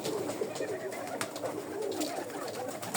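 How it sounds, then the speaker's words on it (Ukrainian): Pigeons coo in soft, repeated, throaty phrases close by in a coop, layered over a steady ambient hiss with occasional faint knocks. "Голуби воркують."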